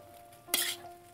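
Chicken nuggets dropped into a frying pan give one short, bright sizzling burst that fades quickly against a quiet kitchen background.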